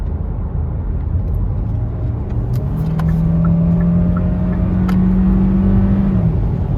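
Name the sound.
Hyundai Tucson hybrid four-cylinder engine accelerating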